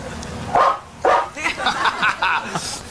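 A dog barks a couple of sharp times, followed by softer yips and whimpers, fairly close by.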